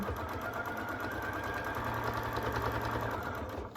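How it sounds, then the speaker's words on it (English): A sewing machine stitching fabric for a quilted mug rug, a close, steady rapid mechanical whir with an even fast needle rhythm running throughout, no talking. "I'm going to do a little back stitch here just to secure it a little bit."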